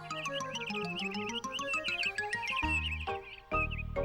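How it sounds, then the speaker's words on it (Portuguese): Cartoon birdsong in a forest, with bright chirping and tweeting in quick repeated phrases over a soft musical backing, moderately loud and continuous. "Ela ouviu pássaros cantando."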